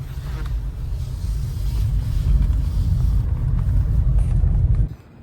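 Car parking at night: a loud, close engine rumble runs steadily, then cuts off abruptly near the end as the engine is switched off.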